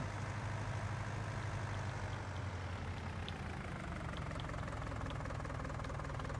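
A tractor engine idles in the Farming Simulator 19 video game, a steady low rumble with a faint knocking pulse, continuous and even throughout.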